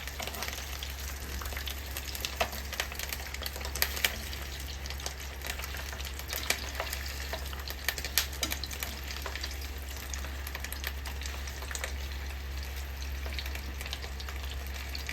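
Sausages fry in hot oil in a pan, giving a steady close sizzle with scattered pops and crackles over a low continuous hum, and no talking.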